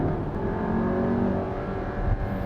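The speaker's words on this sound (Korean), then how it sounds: "자 여기서 RPM을 한번 쭉 높여볼게요" A Volkswagen Tiguan Allspace gasoline engine holds a steady, high-revving drone near 6000 RPM, smooth and continuous, heard from inside the vehicle.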